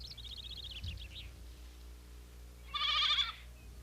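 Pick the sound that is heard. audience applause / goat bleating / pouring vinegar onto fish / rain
goat bleating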